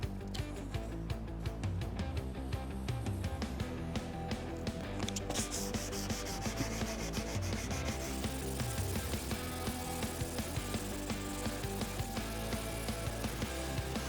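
Steady, fine rubbing of 400-grit sandpaper across a Corian solid surface countertop, a continuous scratchy hiss with quick back-and-forth strokes, close up and fairly quiet.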